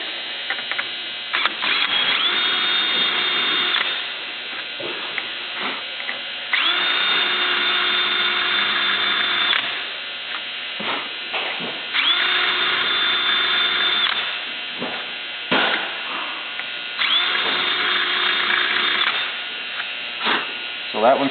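A power tool shaves down aircraft rivets in repeated bursts of high-pitched whirring and grinding lasting a few seconds each, separated by brief pauses, close and loud.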